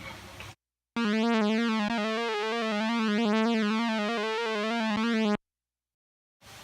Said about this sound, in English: It's type of a lead sound.